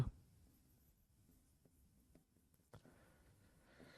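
Quiet, faint scratching of handwriting runs intermittently, close and alone, with a few light taps of the pen.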